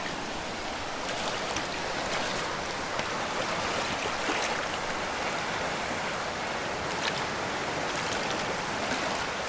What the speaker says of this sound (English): Just like the beach, we got waves.